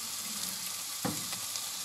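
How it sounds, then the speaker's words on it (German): Boiled green asparagus sears in hot oil in a pan, giving a steady close sizzle and hiss with one brief clatter or stir partway through, no voices. "ja, kurz anbraten"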